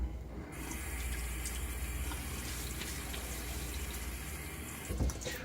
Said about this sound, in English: All right, let's get my face wet.